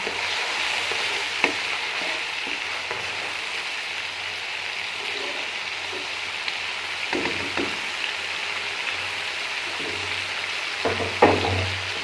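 Tomatoes sizzle and fry in a pan while a spoon stirs them, a steady close crackle with occasional scraping clinks against the pan.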